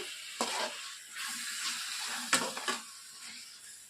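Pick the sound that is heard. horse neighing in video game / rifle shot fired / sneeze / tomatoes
tomatoes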